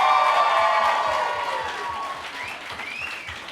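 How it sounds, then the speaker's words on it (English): Live audience gives a loud round of applause with cheering and whistles as a guest is brought on, dense clapping that slowly tapers off, with a faint rhythmic beat underneath. "Round of applause"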